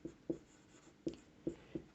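A pen writes a maths equation on paper, making about five faint, quick scratching strokes spaced unevenly across a quiet background.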